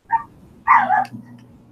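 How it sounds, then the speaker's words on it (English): Small dogs, a poodle and a Maltese, let out several short, sharp yapping barks in bursts, fairly close and loud indoors. "Those sound like little dogs."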